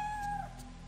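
A single short, high meow from a cat in the horror video game Fatal Frame 3, clear and close over a low, steady background hum.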